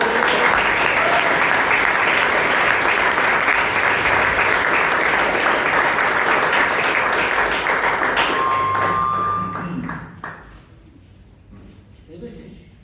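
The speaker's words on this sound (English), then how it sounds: "He deserves a thunderstorm of applause." Loud, sustained applause from the audience at a Bangalore Toastmasters club meeting fills the room for about nine seconds, then fades quickly to quiet with a little talk.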